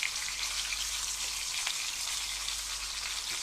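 Fish sizzles steadily as it fries in oil on a tabletop cooker set up outdoors, a constant close crackle that carries on without a pause and with nobody talking over it.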